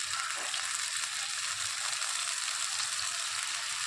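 Water poured into hot oil in a pan while cooking a fish curry, giving a steady, loud hissing sizzle that carries on throughout.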